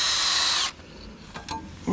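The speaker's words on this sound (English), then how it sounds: "Drill into the centre of the stud first." A power drill bores into a stud for roughly the first 0.7 seconds, loud and steady with a high whine, then cuts off, leaving faint scraping and a few brief clicks.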